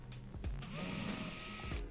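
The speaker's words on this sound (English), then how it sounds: "So pre-drilling those holes." A power drill pre-drilling holes in scrap wood for a side table, heard as a brief close whir that runs steadily for about a second after a few faint knocks, alone with no talk.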